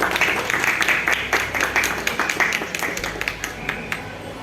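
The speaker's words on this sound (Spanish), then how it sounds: "Recibamos a la mesa con un fuerte aplauso," Audience applause at a book presentation by a small publisher, a sustained patter of many hands clapping in a room, thinning toward the end into scattered individual claps.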